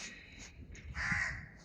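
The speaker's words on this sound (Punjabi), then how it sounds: "ਸੋ ਕਾਂ ਬੋਲਦਾ ਆ" A crow caws from nearby, a few harsh calls with the loudest near the end, over quiet outdoor ambience.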